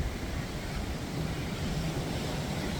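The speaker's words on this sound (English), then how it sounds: "Let's look at those waves again." Ocean waves seen from a cruise ship on a long Fire and Ice voyage give a steady, broad wash of surf mixed with wind noise, continuous and moderately loud, with no voices.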